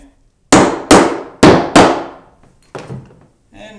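Four sharp hammer blows fasten a wood floor bullnose in quick succession, close and loud, followed by two lighter taps.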